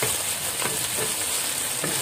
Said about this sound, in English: the onions.